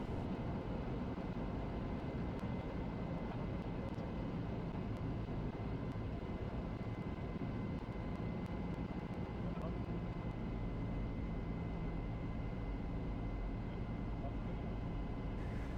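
A Cessna 172 flies an ILS approach to Salzburg runway 15, its engine giving a steady, unbroken droning hum inside the cabin that holds at one level throughout.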